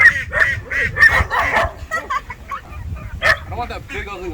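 Farm ducks quack and honk in a close, busy cluster, the calls overlapping in rapid bursts throughout.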